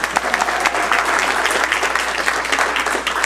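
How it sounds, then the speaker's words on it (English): An audience at a city council meeting breaks into sustained applause, a dense, even clatter of many hands heard close with no voices over it. "You guys can clap now."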